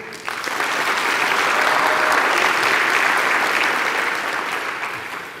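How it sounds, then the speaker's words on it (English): An audience at a university graduation ceremony for the Faculty of Education on the Gqeberha campus applauds, a dense, steady round of clapping that swells and holds for several seconds before tapering slightly, with no speech over it. "Another round of applause,"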